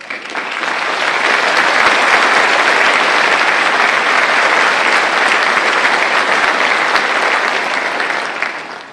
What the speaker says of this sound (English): Please stand and receive our applause.